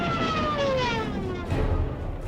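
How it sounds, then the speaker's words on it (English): Wailing dive bomber sirens in a wartime attack, a loud sustained rising and falling howl over rumbling engine and battle noise, swelling near the end. "Dive bombers with ear-splitting sirens clear the path for the attack of ground forces."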